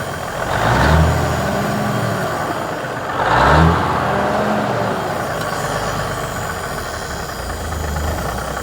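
An abandoned tow truck's engine runs steadily with a rough, knocking idle, swelling into two loud revs near the start and middle before settling back, close by and with no talk over it.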